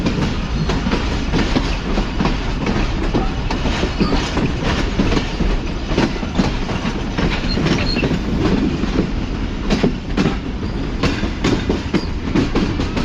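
Karachi Express passenger train rolls toward Kotri Junction through a curve, heard from aboard with a loud continuous rumble and rhythmic clickety-clack of wheels over rail joints.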